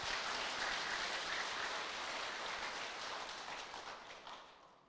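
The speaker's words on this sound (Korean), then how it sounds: "찬탄의 박수 부탁드리겠습니다." A congregation at a Buddhist Sunday dharma service in a temple hall gives a round of applause, a faint, distant, steady patter of many hands that thins and fades out at the end.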